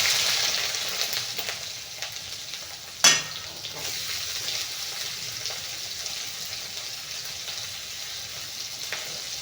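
Big onions sizzle in hot oil in a pan with mustard seeds, urad dal and cumin for a spinach dish, a steady close frying hiss with a sharp clatter early on.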